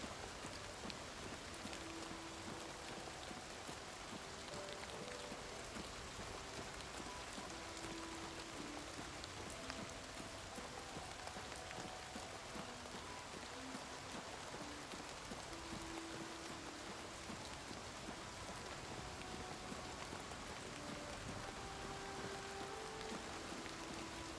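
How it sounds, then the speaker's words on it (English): Rain falling in Oblivion Remastered, a steady, even hiss of drops that holds for the whole stretch, soft and unbroken, with no talk over it. "I guess it's raining."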